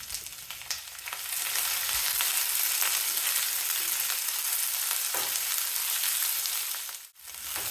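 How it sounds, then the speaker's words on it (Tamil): Onions, dried red chillies and chana dal fry in a pan for kara chutney, giving a loud, steady sizzle and hiss with a few stirring scrapes and a brief dip near the end. "மிளகாய் வத்தலும் கடலைப்பருப்பும் மட்டும் சேர்த்து கொஞ்சம் வறுத்துட்டு அது கொஞ்சம் செவந்ததுக்கப்புறம் வெங்காயத்தை எல்லாத்தையும் சேர்த்து இப்போ வதக்கணும்"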